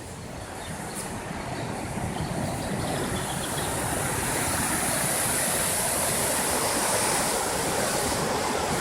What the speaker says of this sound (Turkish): Bu da çılgın akan Bis Nehri.